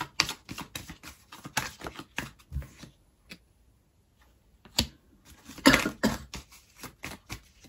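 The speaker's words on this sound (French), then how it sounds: "Désolée pour les toux" Scattered bursts of coughing, some clustered and some isolated, with a quiet pause in the middle before a louder round of coughs.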